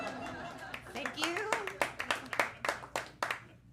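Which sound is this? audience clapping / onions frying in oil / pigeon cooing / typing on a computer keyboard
audience clapping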